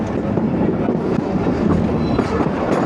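The 13UP Awam Express runs on rails between Lahore and Peshawar, a loud, steady rumble of wheels and carriages with faint clickety-clack, heard close from on board, with no talk.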